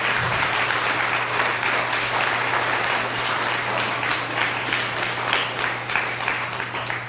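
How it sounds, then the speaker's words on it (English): An audience applauds Officer Nielsen at Washington Elementary School, a steady, dense wash of clapping from many hands that holds throughout, with a low constant hum beneath. "would you give Officer Nielsen a round of applause for all of his service?"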